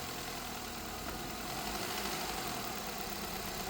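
A 2013 Chevrolet Malibu 2.5 engine idling in drive with worn engine mounts, giving a steady low mechanical hum with a faint rhythmic knock, close and continuous with no talk.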